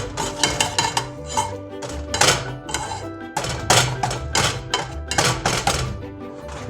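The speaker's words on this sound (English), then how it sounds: "I'm gonna use a pastry blender just to squish them up a little bit" A metal pastry blender repeatedly pressing and mashing raspberries in a pan, giving a series of uneven clanking, squelching strokes close up with brief pauses between bursts.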